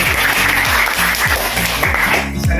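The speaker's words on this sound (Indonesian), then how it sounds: "Tepuk tangan untuk Surage" Classroom applause for a student fills the room, loud and steady with rhythmic clapping close by, fading slightly near the end.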